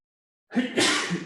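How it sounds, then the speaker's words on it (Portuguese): One short, sharp sneeze bursts out after a moment of silence, close and fairly loud, with a brief breathy tail. "me dando um ataque de espirro"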